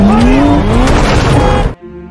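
A car in a film skids with a rising tire squeal over a loud engine roar, then the noise cuts off abruptly into a quieter background, as a driver rams through to escape.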